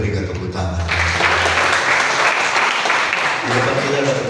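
A church congregation breaks into applause at a worship service, a dense wash of clapping that swells and holds steady for several seconds, with voices mixed in.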